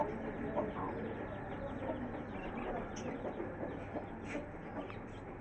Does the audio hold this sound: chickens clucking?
yes